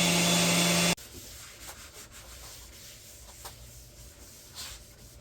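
Wood being sanded with fine final grits in a woodworking shop before an oil finish, a steady soft rubbing hiss with small strokes throughout, following a brief loud burst of noise at the start.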